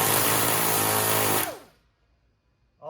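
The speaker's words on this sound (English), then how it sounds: "So basically what I'm gonna do is take my die grinder" Die grinder cutting a slot into a stuck screw on a 1966 Pontiac Tempest, a loud high-pitched steady whine for about a second and a half that then cuts off and winds down to silence, close up.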